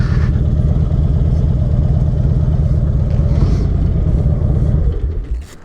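A car engine rumbles loudly up close with a steady low throb as it pulls in to park, then cuts out in the final moments.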